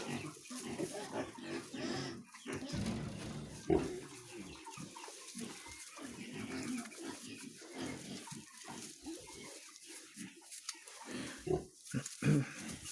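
A sow and her piglets grunt and squeal on a farm, with near, irregular bursts of grunting and some quieter gaps, and only a little background noise.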